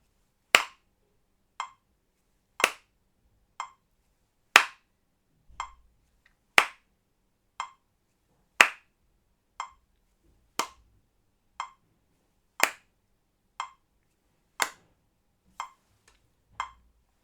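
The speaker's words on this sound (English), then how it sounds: "So in between each clap, really think about how you need to change your next clap to get it bang on" Single hand claps ring out sharp and close at an even pace of roughly one every second, about fifteen in a row, each a crisp isolated crack in a quiet room.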